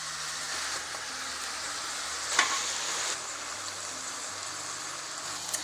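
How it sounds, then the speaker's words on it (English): Chanterelle mushrooms sautéing in butter over high heat with black pepper and thyme, a steady close sizzle with a brief clatter as they are stirred partway through. "I like to start mushroom on a higher heat to get rid of it all moist"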